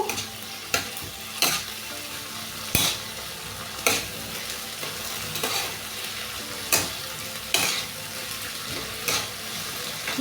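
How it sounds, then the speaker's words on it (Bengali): Spice paste being stirred in a hot frying pan with a utensil, a steady sizzle underneath and repeated scraping strokes at a slow, uneven rhythm, close and fairly loud with no talking. "মশলার পেস্টটাকে দিয়ে দিলাম দিয়ে নাড়বো"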